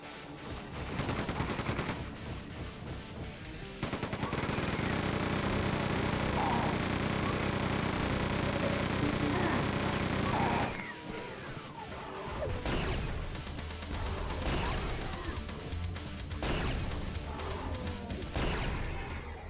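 Weapons fire in the video game Quake II 64, with dense sustained blasts and booming shots, a long continuous roaring burst in the middle and scattered explosive hits after, loud and unbroken by speech.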